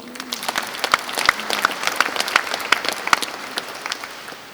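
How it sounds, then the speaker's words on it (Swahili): A church congregation claps together at a bishop's call, a dense run of sharp, irregular hand claps at middling distance that swells then slowly thins out, with no talking over it. "Tuwapigie makofi."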